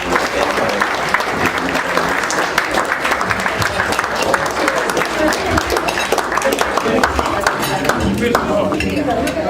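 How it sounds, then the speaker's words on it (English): A crowd at an NFL dinner applauds steadily, dense clapping filling the whole stretch with a few clinks and murmurs mixed in. "So a round of applause for Mr."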